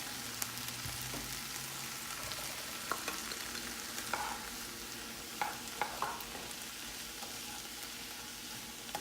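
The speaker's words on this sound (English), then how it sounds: "now we're going to add our garlic and our red pepper flakes." Garlic and red pepper flakes sizzle steadily in a skillet, a close, constant frying hiss broken by soft clicks and scrapes of stirring, with no talking.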